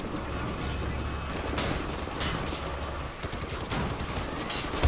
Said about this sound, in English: Oh, this is now a laser gun